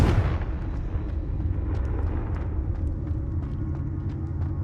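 Confringo fire spell explosion in the Hogwarts Legacy video game, a loud booming blast at the start that rolls into a low rumbling tail with scattered small crackles and pops.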